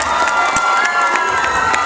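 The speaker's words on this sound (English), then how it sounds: "Clinton Portis, everybody. Nice big round of applause." A close, loud crowd cheers and claps for Clinton Portis, with excited shouts and high voices layered over steady clapping throughout the short burst.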